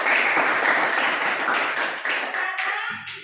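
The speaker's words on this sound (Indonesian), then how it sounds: "Silakan tepuk tangan dulu untuk temannya." A classroom of students claps for a classmate's group after its presentation. The burst of hand clapping is loud at first, then thins out and fades to a few scattered claps and a faint murmur at the end.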